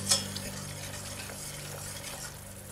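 A whisk stirs a cocoa-powder chocolate cold cake mixture in a pot over a low flame, with one sharp clink at the start and then a steady, soft swishing and scraping close by.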